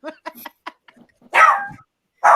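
A dog nearby gives several short, light yips, then two loud, full barks with pauses in between. No talking is heard.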